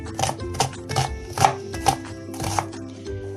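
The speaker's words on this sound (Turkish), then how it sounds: "İnce ince doğrayalım soğanlarımızı." A knife chopping onions on a board: a string of sharp, evenly spaced chops, close and fairly loud, with no talking.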